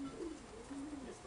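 Long-distance racing pigeons coo softly nearby, two drawn-out throaty calls rising and falling in quick succession over faint loft background noise.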